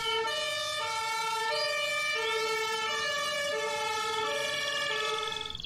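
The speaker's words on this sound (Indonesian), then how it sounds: "ambulans warna merah" Red toy ambulance siren wailing continuously in a steady two-tone rising and falling pattern, loud and close, with no talking over it.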